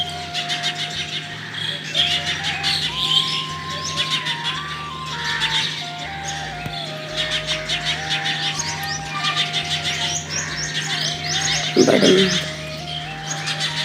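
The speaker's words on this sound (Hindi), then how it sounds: "चिड़िया मन के चहचहाहट।" Birds chirp and tweet continuously in the morning air, with a steady low hum and occasional cooing in the background; a brief spoken word near the end.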